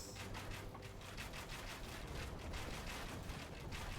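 Trebuchets bombard enemy buildings in Age of Empires 2 Definitive Edition, producing a dense, continuous barrage of thudding impacts and crumbling debris that layers into a steady rumbling roar, with no talking.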